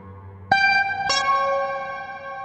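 Two bright, metallic plucked notes ring out in succession through an Electro-Harmonix Iron Lung pedal with reverb, each sustaining and blooming with a long reverberant tail.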